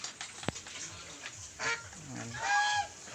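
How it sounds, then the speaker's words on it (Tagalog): Pet geese on a farm in the rural Philippines honk several times in a short burst, close and fairly clear, with a sharp click near the start. "doon naman yung mga alagang gansa"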